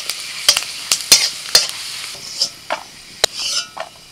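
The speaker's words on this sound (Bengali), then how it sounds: "এখন কয়েক কোয়া রসুন ভেজে নিচ্ছি।" Garlic cloves sizzle in hot oil in a pan while a spoon stirs them, giving a steady frying hiss broken by sharp, irregular scraping clicks up close, with no talking.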